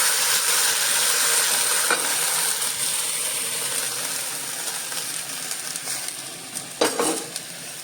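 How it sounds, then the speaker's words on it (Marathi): Cooked mithane hit hot tempering with asafoetida and sizzle steadily and loudly throughout, with a few sharp clinks and scrapes of a spoon stirring them in the pan. "अशा पद्धतीनं हे शिजलेले मिठाणे मी याच्यामध्ये घातले फोडणीत."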